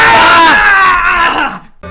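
A loud, drawn-out scream of fright from a person at a spooky-themed event, high and strained, trailing off into a shaky groan before a brief pause and a clipped burst of sound.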